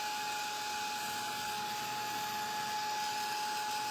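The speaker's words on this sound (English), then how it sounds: "then I'm going to hit it with my dryer to set it on there" Hair dryer blowing steadily to set ink on a printable spring bunny canvas craft sign, a continuous close whooshing airflow with a faint high whine, unbroken for the full length with no talk.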